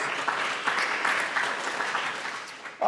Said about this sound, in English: Give yourselves a round of applause for being a part of this.